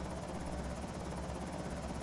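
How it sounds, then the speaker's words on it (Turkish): A helicopter flies overhead in the Project Zomboid video game, its rotor chop a steady, dense, rhythmic thrum held at even, fairly faint loudness for the whole stretch. "her oyuna girdiğimde helikopter geliyor ya"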